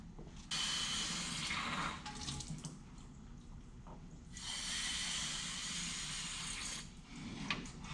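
Water pours into a Chevy C30 truck, a steady rushing splash that swells, eases off, then surges again, nearby and alone with no voices.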